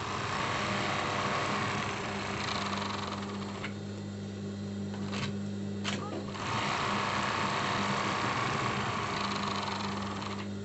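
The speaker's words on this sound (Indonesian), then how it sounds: "sekarang kita sudah di mesin obras dan kita tinggal obras saja pinggiran ininya ya" An overlock sewing machine runs steadily for about ten seconds as it finishes the edges of a cloth mask, with a brief dip and short pauses midway, then keeps whirring at a close, even level.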